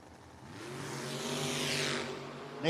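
Chevrolet S10 drag race trucks at a No-Box 660 Shootout launch and accelerate down the strip, a rising roar heard from a distance that swells and then fades as they pull away.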